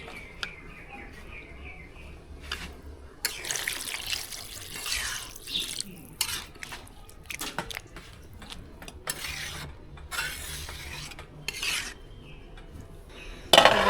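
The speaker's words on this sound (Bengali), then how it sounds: "আর একটু লাগবে পানি।" More water is poured into a Bogura-style beef and potato curry with beef tilai and heart, coming in scattered splashy bursts mixed with light clattering of pot and utensils, close and moderately quiet.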